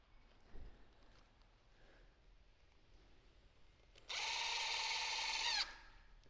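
Power drill driving a 3-inch screw into 2x4 lumber, a single burst of whirring motor noise lasting about a second and a half after a quiet stretch with faint handling knocks, close and fairly loud.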